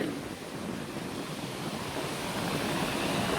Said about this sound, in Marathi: काय मोठ मोठ्या लाटा येत